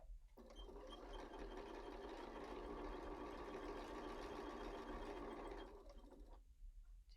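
A sewing machine stitches a square-in-a-square pillow in one steady, continuous whirring run of about five seconds, close and fairly quiet, then stops.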